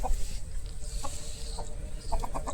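Bhimavaram breed roosters at a farm near Hyderabad give a few short clucks and calls over steady background noise, with no voices.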